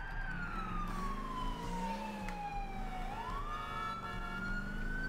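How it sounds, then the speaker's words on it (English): Wailing police car siren from the video game LCPDFR, a loud continuous electronic tone that sweeps slowly down and then rises again over a steady engine hum, with no talking. "Cause whoop whoop is the sound of the police!"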